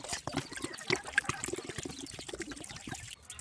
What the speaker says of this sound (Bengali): তার জন্য আমি দেখো এখানে প্রথমে 1 লিটার জল দিয়ে দেবো